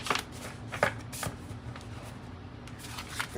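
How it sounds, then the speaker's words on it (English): Slick Shaman's Oracle cards are shuffled by hand, giving close, rapid riffling and flicking bursts with a soft continuous rustle between them. "Oh, I forgot how slick these cards were. They are very slick. Hard to shuffle."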